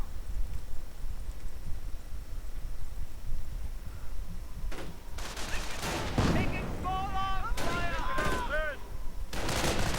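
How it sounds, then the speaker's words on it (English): Machine gun and artillery fire during a Company of Heroes match, scattered bursts and heavier blasts arriving in clusters over faint battlefield ambience, with whistling tones and light talk mixed in. "Medics getting shot at. In the center, more specifically, I suppose. MG fire right there."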